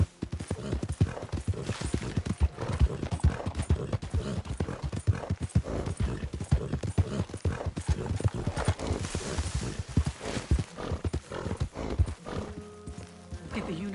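A horse gallops in a video game, rapid rhythmic hoofbeats pounding close and loud without pause, with faint game ambience settling in near the end.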